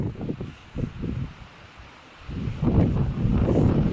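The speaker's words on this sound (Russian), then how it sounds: "прям уж здесь насквозь продирает ветер" Cold wind gusts across a snowy Central Beach in Anapa in winter, buffeting the microphone with low rumbling blasts that ease briefly midway and then return stronger and steadier.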